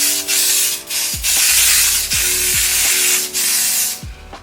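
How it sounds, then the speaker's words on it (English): Several bursts of Kenra hairspray hiss close up onto hair, each lasting around a second, separated by short pauses and faint clicks. "this is the generic Kenra spray"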